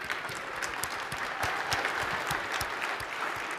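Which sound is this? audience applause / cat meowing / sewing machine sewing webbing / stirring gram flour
audience applause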